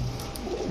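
Male Giribaz pigeons cooing up close, a steady low throaty coo running through the short moment at a pigeon seller's loft, with no talk over it.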